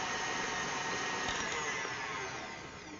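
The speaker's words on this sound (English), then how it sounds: "now let's whisk the eggs and sugar together until it's light and fluffy" Eggs and caster sugar being whisked together with an electric whisk, a steady loud whirring motor drone that runs continuously and tails off slightly at the end, with no talk.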